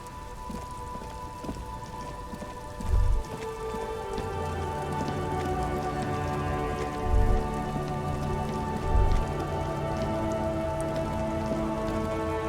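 Steady rain patters on a surface throughout, with a few low thumps and a faint tonal hum underneath; no voices. Rain in the video game Disco Elysium, in a traffic jam.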